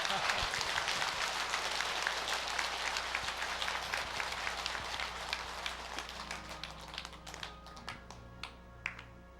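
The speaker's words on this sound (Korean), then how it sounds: "박수 한번 크게 쳐주세요." An audience at a Buddhist dharma assembly breaks into dense applause that thins into scattered individual claps, with a voice and music faintly underneath as it tapers off.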